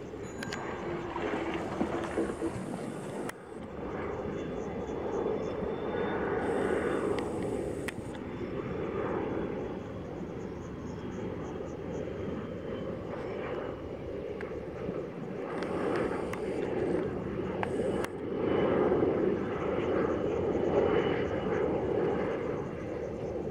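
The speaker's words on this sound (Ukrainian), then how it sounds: "І ось зараз черговий літак іде." A passenger plane descends toward Burgas airport over a sunflower field, its steady engine drone rising and falling in the distance while people talk nearby and wind buffets the microphone.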